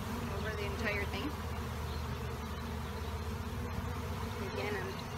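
Honey bees buzz steadily around an open Langstroth hive during a powdered sugar roll and varroa mite treatment, a dense continuous drone close by with a few faint handling sounds.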